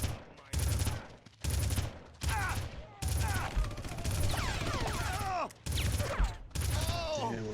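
Rapid automatic gunfire in the video game Red Faction, loud close bursts of dense shots broken by brief gaps, with high ringing tones and a voice talking over them.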